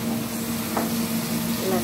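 Tongkol balado spice paste of tomato and garlic frying in a pan, a steady close sizzle with faint stirring scrapes, continuous and fairly loud throughout.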